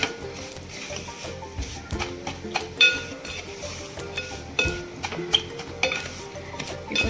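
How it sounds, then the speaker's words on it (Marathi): Cashews, almonds and raisins are stir-fried in semolina in a pan, a spoon scraping and stirring with soft sizzling and occasional metallic clinks, close and continuous without talk. "काजू बदाम आणि मनुके घेतलेत, ते टाकून छान असे परतवून घ्यायचे आहे रव्यामध्येच"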